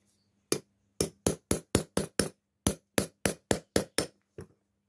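Sharp hammer-like taps punching a small hole in a plastic or shoe-sole patch while repairing a lace eyelet, about a dozen crisp, close, evenly spaced strikes in two runs with a faint final tap.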